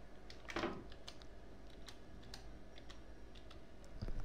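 Quiet, steady clicking of fingers typing on a computer keyboard, a soft run of keystrokes close to the mic with no voices.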